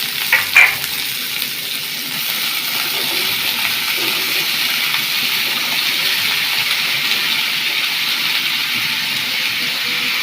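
Yardlong beans dropped into a pan with chopped onion: a brief clatter at the start, then a loud, steady, close frying hiss that lasts throughout without voices.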